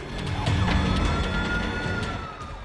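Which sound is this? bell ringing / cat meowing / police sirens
police sirens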